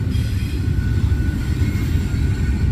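A westbound intermodal freight train rolls past close by, a loud steady low rumble of wheels and cars with faint squealing tones above, no voices.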